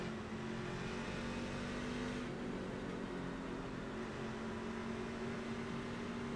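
Truck engines from the iRacing Truck Series at Daytona, a steady loud drone of several engines holding high revs together, continuous throughout with no talk over it.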